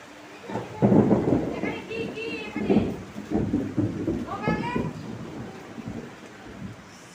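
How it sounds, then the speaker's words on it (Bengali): Heavy rain with rolling thunder during a storm that brings hail, a steady wash of rain with deep rumbles swelling and fading, close and fairly loud, while someone talks over it. "এখন আসলো বৃষ্টি দেখো কি সুন্দর বৃষ্টি হচ্ছে"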